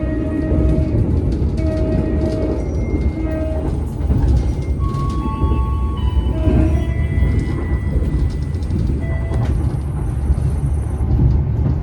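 Inside the Batavia economy new generation passenger train running from Jogja to Solo, a steady rumbling roll fills the carriage, with faint tonal squeals and a brief horn-like tone over the continuous low track noise.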